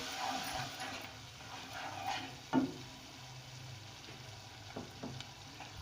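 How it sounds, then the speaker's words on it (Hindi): Masala spices frying and being stirred in a pan for matar keema, a steady close sizzle with scraping stir strokes and a louder clack of the spoon partway through. "मसाला मैंने भून लिया।"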